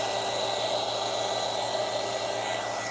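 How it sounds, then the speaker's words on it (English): An embossing heat gun blows a steady, broadband hot-air rush over alcohol inks on a DIY Christmas gift, loud and close, holding an unbroken whoosh the whole time with no talking. "I'll do a little bit extra manipulating and moving around with the embossing gun"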